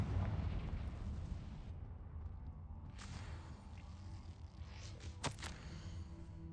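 A Confringo fire spell explodes in Hogwarts Legacy with a rumbling, fiery burst that fades into crackling debris. Sharp pops and impacts follow a few seconds later over quiet game ambience.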